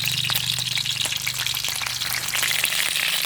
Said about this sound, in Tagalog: Tapos prituhin natin.